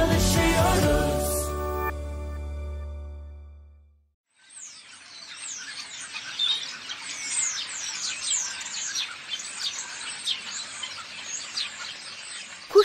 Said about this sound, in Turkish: Kuş cıvıltılarını duyuyor musunuz?